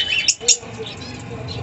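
Small widowbirds for sale in a Malda pet shop give a few short, bright chirps up close, with two sharper calls standing out over a steady background murmur.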